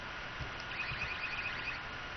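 In Garry's Mod, a Half-Life 2 game, an electronic alarm rings as a thin, steady warbling beep over a constant hiss of background game noise, faint and unbroken.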